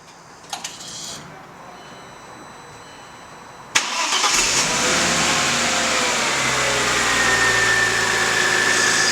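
A 2000 Audi S4 fitted with a coil pack upgrade cranks briefly and fires, then settles into a steady, loud idle with a faint high-pitched whir running through it.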